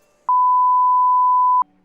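A single steady electronic beep, a pure tone held clean and loud for about a second and a half, with silence on either side.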